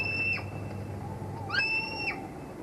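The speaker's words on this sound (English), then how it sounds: "it's only a tape recorder trying to induce a response from the uncommon stone curlew" A recorded bird call played back from a tape recorder to lure uncommon stone curlews, giving clear whistled calls with rising and falling sweeps in two bursts, over steady low background rumble.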